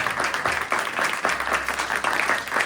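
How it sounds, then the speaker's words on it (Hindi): A crowd clapping steadily, dense and continuous applause filling the room, fairly loud and close. "आप लोग भी ताली बजाइए ऑनलाइन वाले"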